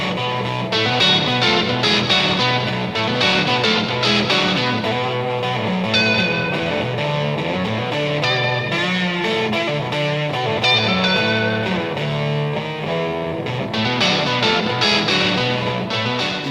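Heavily distorted electric guitar through an MJM London Fuzz pedal and a Fender '68 Custom Deluxe Reverb amp plays a dense, continuous riff with a thick fuzzy tone and bright, gritty overtones, loud and unbroken throughout.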